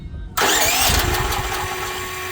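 A Duromax 13000EH generator engine starts from its battery switch, cranking abruptly out of near silence and catching into a loud, steady close-up running drone that settles slightly.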